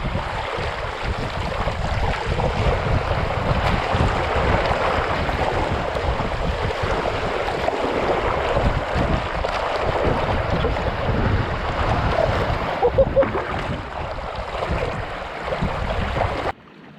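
Big waves roll and break around a small Sunfish sailboat on open lake water near Isle Royale. Heavy wind buffets the microphone in a loud, continuous roar of water and gusts with no voices.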